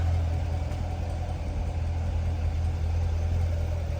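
A 2017 Chevrolet Corvette C7 Grand Sport engine idles steadily with a deep, low rumble, continuous and close, with no other sounds.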